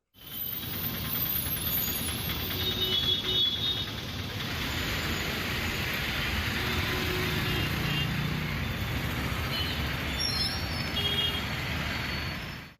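Heavy road traffic on a busy market road in Mahabubnagar, a steady broadband roar of passing vehicles lasting throughout at a fairly constant level, with faint scattered horn-like tones and no clear speech.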